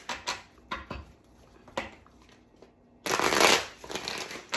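Tarot cards being shuffled by hand, a few quick riffling bursts followed by a louder, sustained shuffle close up, with no talking.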